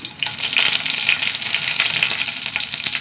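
Two dried red chilies fry in hot oil with a steady, close crackling sizzle that stays bright and busy throughout, no voices present.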